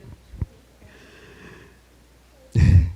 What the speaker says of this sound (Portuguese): Estou saindo de um resfriado, então se eu der umas fungadas aqui